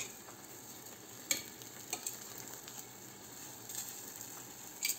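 Vegetables stirred and cooked into a soup base in a pan, giving a quiet steady sizzle with soft occasional clinks of a utensil against the pot, no talk.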